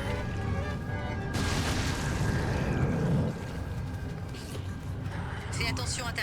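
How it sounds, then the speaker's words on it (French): A grenade blast rumbling through gunfire and combat noise in the video game Resident Evil 7, a loud boom swelling midway, with someone talking over the action. "Grenade."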